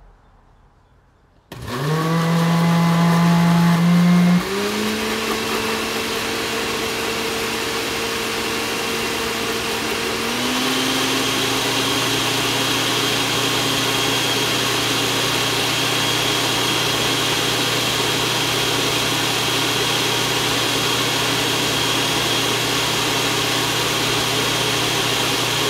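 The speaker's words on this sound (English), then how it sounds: "And we'll blend it." A lidless second-hand blender starts up and whirs loudly and continuously as it blends a padsicle mixture, its motor pitch shifting slightly a few times while running alone without talk.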